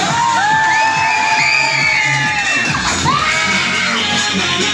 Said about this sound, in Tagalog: parinig naman ng isang malakas na palakpakan na may kasama. Sigaw!